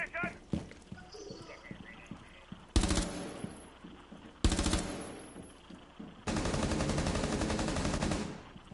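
A machine gun nest in a video game fires in three long, loud, rapid bursts, each cutting off sharply, with scattered footsteps and clattering effects in the quieter gaps between them.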